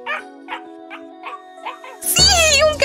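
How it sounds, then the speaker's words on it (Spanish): A puppy gives a series of about six short, high yips spaced evenly, close and clear, before a loud voice cuts in over the end. "¡Sí! ¡Un cachorro!"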